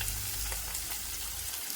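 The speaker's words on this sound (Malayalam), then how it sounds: "ഇതിലേക്ക് ക്യാപ്സിക്കം അതുപോലെ സവോള ചേർത്തു. ജസ്റ്റ് ഒന്ന് ഇളക്കി കൊടുക്കാം." Capsicum and onion stir-fried over a high flame for pineapple chilli chicken, crackling in a steady, close sizzle with faint scraping stirs and a low rumble of the burner underneath.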